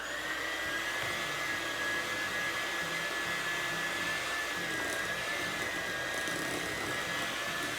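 An electric mixer blends banana bread batter made without flour, eggs or milk, giving a steady, continuous high whine that holds at an even, fairly loud level throughout with no voices.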